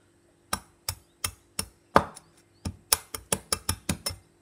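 Crispy pork belly crunches in about a dozen sharp, dry cracks, close and clear, coming at a steady chopping rhythm with a brief pause near the middle and no talking over them.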